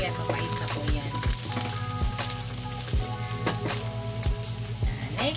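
Garlic sizzling and crackling steadily in a hot pan of oil for ginisang sitaw with pork, with a dense even fry hiss and occasional soft scrapes of a utensil stirring.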